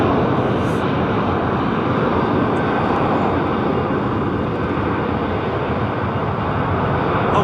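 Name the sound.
airplane taking off at London Heathrow Airport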